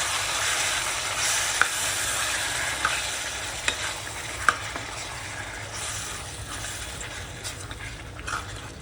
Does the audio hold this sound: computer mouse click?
no